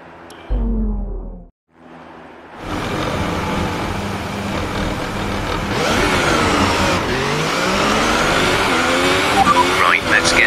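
An F1 race car in F1 2018 at Hockenheimring, German Grand Prix: a brief engine burst, a cut, then a loud rising and falling engine whine through gear changes with tire squeal near the end.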